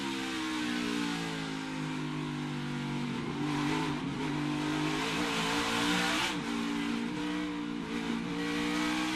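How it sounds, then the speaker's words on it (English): A stock race car engine roars through a qualifying lap, a steady mid-pitched drone with slight rises and dips in pitch as the car moves through the course, sustained throughout with no talking. "So here goes Herbst. He's already started his lap, and he's currently in the green."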